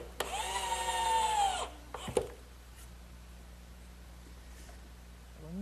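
A power drill driving all-weather screws into wood whines for about a second and a half, then gives a brief second burst, followed by quiet room tone.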